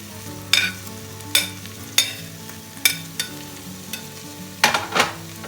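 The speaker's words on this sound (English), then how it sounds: "We're going to give these another 10 minutes cooking, so we get the peppers nice and soft." Mushrooms and peppers cook in a pan for a plant-based Tuscan chicken dish, with a steady low sizzle and a spoon that scrapes and taps the pan every second or so, close and clear with no voices.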